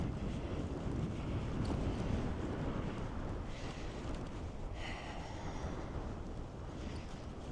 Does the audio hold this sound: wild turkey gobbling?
no